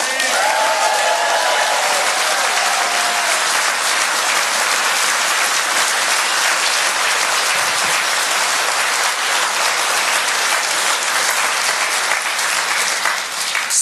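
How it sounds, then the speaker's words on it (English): Loud, dense applause from an audience at a UK Labour Party political rally fills the whole stretch, sustained and even throughout, with faint crowd murmur underneath. "can we have a round of applause, please, for our excellent local candidates, Byron Taylor and Katie Block"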